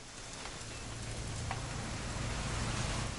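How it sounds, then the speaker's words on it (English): Steady rain from the video game What Remains of Edith Finch, a dense, even hiss of falling drops with a low hum beneath, continuous and fairly close with no voices. "It's gonna rain the whole weekend, isn't it?"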